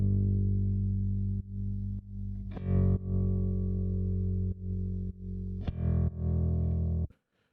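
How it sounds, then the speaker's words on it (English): Distorted bass guitar holding long notes while sidechain compression ducks it on every kick drum hit, leaving a steady pumping pattern of brief dips in level across several seconds, with punchy kick attacks cutting through. "we're getting the bass guitar out of the way every time the kick hits"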